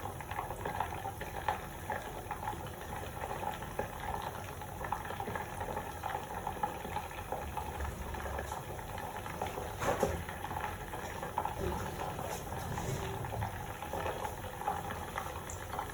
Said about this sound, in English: and deep fry this again